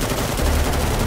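Rapid automatic gunfire from Metal Gear Solid V: The Phantom Pain, a dense, continuous burst filling the whole moment at steady loudness with no pauses.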